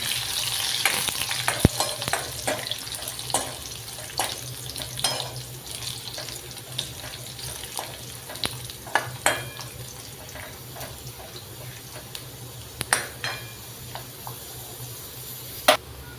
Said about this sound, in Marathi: लसूण छान परतून झालं आहे. त्यामध्ये लाल मिरच्या टाकून घेऊ.